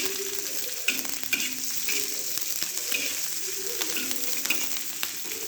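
Green chillies sauté and sizzle in a pan while a spatula scrapes and stirs them at intervals, giving a steady frying hiss broken by repeated knocks.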